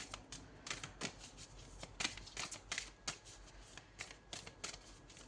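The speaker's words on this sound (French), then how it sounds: "je vais prendre une carte avec l'aura des anges" Oracle cards are shuffled and drawn by hand, a quiet, close run of crisp riffling flicks and soft slaps in irregular bursts, with no talking.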